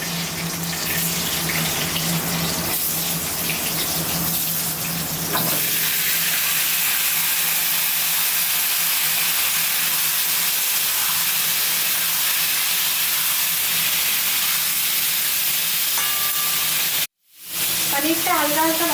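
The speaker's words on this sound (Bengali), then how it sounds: "এবার এই তেলেই পটলে দেওয়ার জন্য আলুগুলো ভেজে নেব।" Potatoes frying in oil in a pan while paneer is being cooked, giving a steady hiss and sizzle that continues throughout, with a brief dropout near the end.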